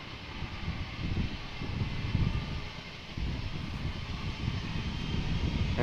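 A jet airliner rolls for takeoff on a runway at Amsterdam Schiphol Airport, its engines making a steady, distant rumbling roar that swells slightly over several seconds.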